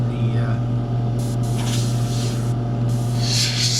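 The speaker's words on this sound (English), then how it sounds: "fill up my airbrush with some paint" A steady airbrush hiss sprays paint onto a tire in short bursts over a constant motor hum, with no voices.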